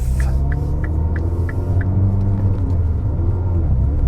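A Pepper White R56 MINI Cooper S pulls away, its engine a close, steady low rumble and throbbing hum inside the car, with a few faint ticking sounds at the start.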